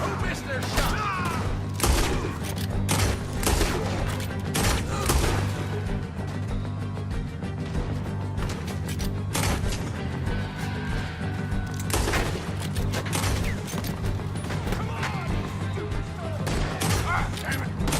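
Rapid gunfire rattles through a Red Dead Redemption 2 shootout at a farm barn, with dense volleys, heavy booms and thuds layered close and loud, and voices mixed in beneath the shots.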